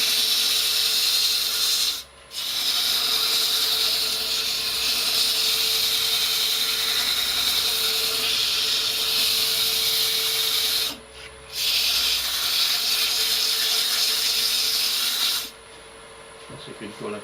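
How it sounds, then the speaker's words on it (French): Abrasive cloth sands a wooden glass spinning on a wood lathe, producing a steady loud hissing rush that runs continuously with two brief breaks, and a voice speaks faintly underneath. "Maintenant on va poncer le verre pour le terminer."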